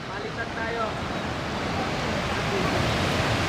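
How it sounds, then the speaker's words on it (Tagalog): Sea waves at a cove in Nasugbu, Batangas, a continuous broadband surf roar mixed with wind buffeting the microphone, with a voice faintly present underneath. "Medyo lumalakas na rin yung alon."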